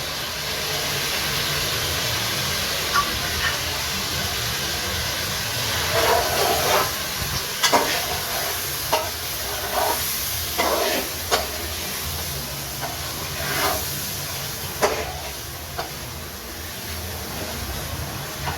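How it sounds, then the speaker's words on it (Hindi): Spiced chicken masala frying in a pan for a chicken stew, with a steady loud sizzling hiss throughout and intermittent scrapes and taps of a spatula stirring it. "अब हम इसको अच्छे से भून लेते हैं।"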